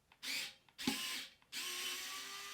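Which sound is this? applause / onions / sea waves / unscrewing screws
unscrewing screws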